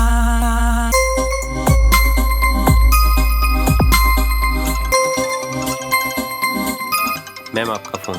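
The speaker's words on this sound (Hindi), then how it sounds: "मैम आपका फोन।" A mobile phone rings with a bright, repeating electronic ringtone melody that plays steadily and fairly loud, with a voice coming in toward the end.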